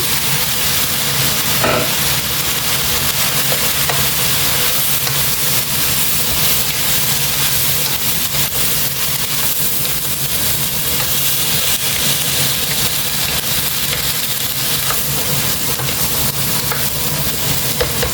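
Cabbage and carrot stir-frying in a pan, a loud, steady sizzle and hiss close up that carries on unbroken with faint stirring scrapes.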